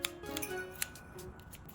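Scissors snip the corners of sewn fabric pieces for a fabric Christmas tree, giving a few quick, crisp clicks close up over a quiet room with no talking.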